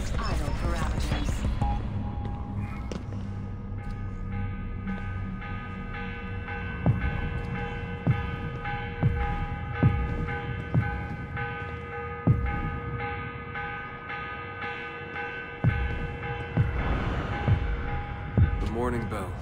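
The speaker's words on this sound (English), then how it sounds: "The morning bell. God, I hated that. Ringing 5 days a week just before dawn." Morning bell in Assassin's Creed Revelations, tolling at a steady rhythm with sustained ringing overtones and a low hum, a series of regular strikes over twenty seconds.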